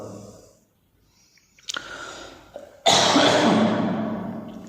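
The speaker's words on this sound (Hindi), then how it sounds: "आज कुछ खांसी ज़्यादा हो गई है," A sharp cough erupts after a quieter stretch, followed by a loud, harsh burst that trails off into noisy breathing, close to the listener.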